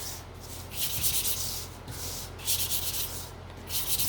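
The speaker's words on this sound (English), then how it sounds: "just give this a sand, and I'm just going around." A wooden hanging sign is hand sanded in steady back-and-forth strokes, the rhythmic gritty scraping close and continuous with slight surges on each pass.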